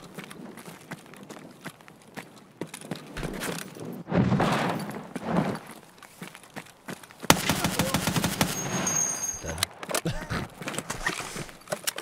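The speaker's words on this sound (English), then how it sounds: "You're getting shot in the back by scav." Gunfire from Escape From Tarkov comes in short automatic bursts and single shots, muffled at first, then a louder, denser volley of rapid shots near the end, with faint game ambience between.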